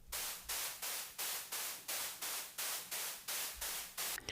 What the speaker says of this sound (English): I created a kind of shaker type of sound.